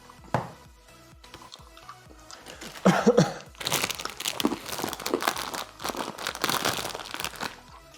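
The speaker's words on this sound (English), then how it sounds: "I'm just crunching through the rest of the durian candy so we don't have to deal with it any longer" Durian candy is crunched between the teeth while eating, starting with a few isolated crunches, then dense, irregular crackling and crinkling bites that grow steadily louder and continue to the end, close and without talking.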